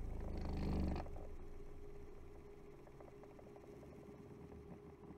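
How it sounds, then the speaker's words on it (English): An electric motor with regenerative braking winds down after switching, a brief louder whir at first dropping into a faint, low, steady hum that fades as it slows. "The motor comes to a stop in 10 seconds, compared to the 30 seconds from before."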